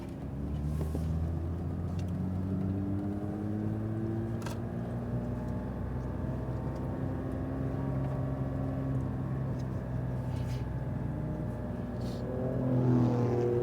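A Porsche 992 911 GT3 accelerates hard on a race track, its engine note climbing steadily through the revs in a loud, continuous drone with harmonics that rise and reset across gear changes.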